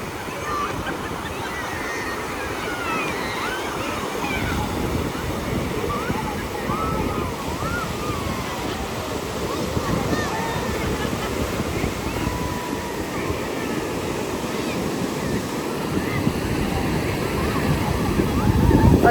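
Ocean surf rolls steadily onto a crowded Konkan beach, a broad, continuous wash of waves with wind buffeting the microphone and a faint murmur of people.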